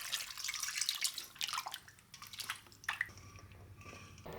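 Pork rib pieces being washed in water, with close, irregular splashes, drips and squishy handling sounds as the meat is rubbed clean, no voices.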